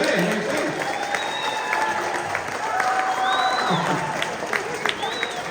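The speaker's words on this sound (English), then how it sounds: "One more round of applause for these guys." Audience applauding for a school band at a Christmas concert, sustained clapping and some cheering from a crowd, with whistles and chatter mixed in.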